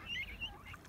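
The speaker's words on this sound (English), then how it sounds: "What are these ducks?" Ducks call near the shore of Coniston Water, with a couple of quick nasal honking calls heard from a canoe over low background noise.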